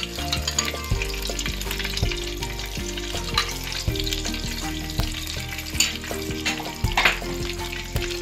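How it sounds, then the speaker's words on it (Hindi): Yogurt and spices sizzle and fry steadily in a pan for prawn biryani, with a soft crackling hiss throughout and occasional stirring scrapes, close and moderately loud, with no talking. "मसाले को अच्छी तरह हम जो है वो भूनेंगे।"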